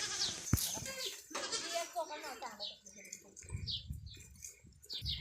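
Goats on a village farm bleat several times over a person talking nearby, with birds chirping in the background.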